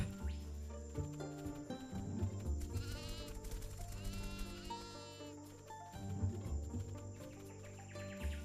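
Synthetic sheep bleats waver over layered music in the game Sheepherds!, a few drawn-out cries mixed into the steady melodic backing.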